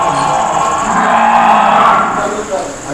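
A water buffalo on a dairy farm during milking gives one long, loud, low moo right up close, swelling and fading over about three seconds.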